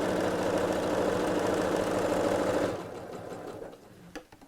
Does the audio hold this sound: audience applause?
no